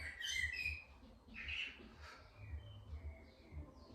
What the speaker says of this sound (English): Sounds like the bird's right outside.